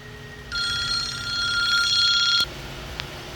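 A telephone rings once with an electronic trilling bell lasting about two seconds, close and fairly loud, then cuts off abruptly.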